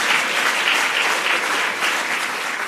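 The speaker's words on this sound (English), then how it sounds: "Well, it's worth applause." Dense, sustained applause from an audience at an announcement of Amazon's new headquarters, a steady wash of many hands clapping at constant loudness throughout, with no voices over it.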